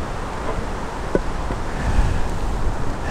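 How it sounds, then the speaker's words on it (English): Gusting autumn wind buffets the microphone beside the water at a fishing match, a low, rumbling roar that swells and eases without any talk. "especially wind and stuff like this, because it's not just constant, it is gusting"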